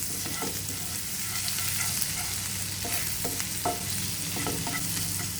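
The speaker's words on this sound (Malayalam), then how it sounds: "നമുക്ക് ആ എണ്ണയിൽ തന്നെ കുറച്ച് ചതച്ച വെളുത്തുള്ളി ഇട്ടിട്ട് നന്നായിട്ട് അതിനെ ഒന്ന് വാടി കിട്ടിയാൽ മതി." Crushed shallots and garlic frying in oil in a pan, a steady close sizzle broken by occasional spoon scrapes and stirring knocks, no voices.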